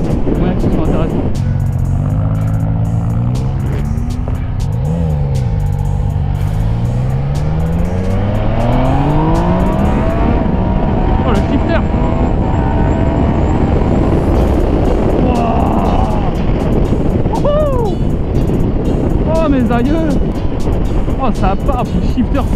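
A Yamaha Niken three-wheeled motorcycle accelerates with loud, rising engine tones, stepping up through quick-shifter gear changes, heard close under steady wind noise while someone talks over it in French.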